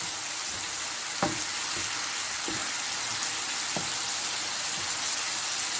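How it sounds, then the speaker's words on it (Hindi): Bitter gourd sabzi with fennel seeds roasting in a pan, a steady soft sizzle with a few light scraping knocks from stirring, close and alone. "अब हम इसको भून लेंगे थोड़ी सी देर"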